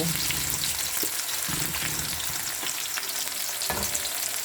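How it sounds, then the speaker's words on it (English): Vegetables sautéing in a hot pan for a stir fry give a steady, close sizzle with occasional stirring scrapes and clicks throughout, and no one speaks. "So saute that for maybe 1 minute or so."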